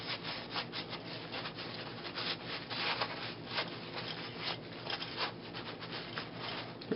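A rag or brush scrubs old, leaked gasoline residue off the top piece of a carburetor, making steady, close rubbing strokes in a continuous rhythm with no talking.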